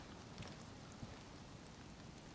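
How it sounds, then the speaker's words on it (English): Steady rain falling in the video game DayZ, a faint, even hiss of drops that continues without a break. "Yeah, I can still hear rain."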